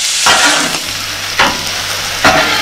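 Steak sizzles loudly on a griddle for a Philly cheesesteak, a steady close frying hiss broken by three scraping stirs of a spatula, with no talking.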